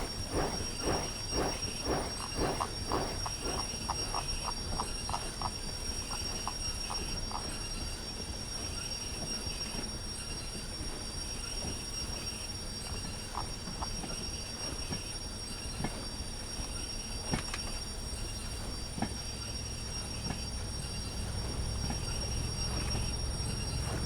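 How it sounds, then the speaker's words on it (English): Train brake squeal from the railway game Derail Valley, a continuous grinding screech over steady rolling rumble, with rhythmic clacks of wheels over rail joints through the first half. "Sounds like the brake's on. Horrible, horrible squeal."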